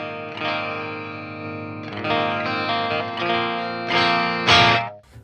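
An electric guitar plays through the distorted crunch channel of a tube amp. Several loud chords are struck and left to ring in sustained, gritty bursts, up close, with no talking.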